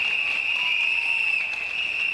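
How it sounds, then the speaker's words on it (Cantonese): A crowd at a League of Social Democrats political rally in Hong Kong applauds, a dense, steady wash of clapping heard at some distance with no break. "我俾掌聲大翻啦！"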